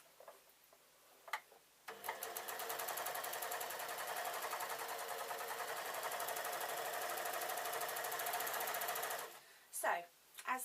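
An overlocker runs a seam on suit trousers, sewing from bottom to top in one sustained, rapid, rattling burst of about seven seconds, close and loud, with brief handling sounds before and after.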